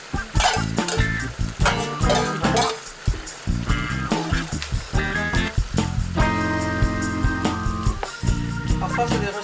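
Frozen vegetables sizzle steadily in a hot pan while a utensil stirs them with rapid, rhythmic clinks and scrapes against the metal, loud and close throughout.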